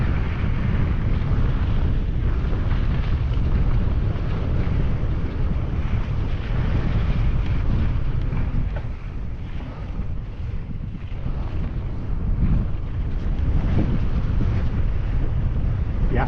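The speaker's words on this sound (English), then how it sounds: "I can feel the wind a bit more, maybe because I'm like higher up on this little mesa" Strong, continuous wind buffets the microphone on a mesa trail ride, a loud rushing roar that dips briefly midway and then swells again.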